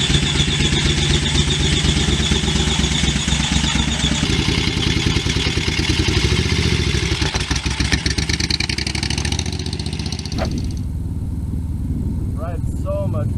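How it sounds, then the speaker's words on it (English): A 1973 Moto Guzzi V7 Sport motorcycle on a test ride after repairs, its engine running loudly and steadily, then dropping in level and pulling away near the end. "the bike's all back together, so Austin's going to take it for a quick test ride"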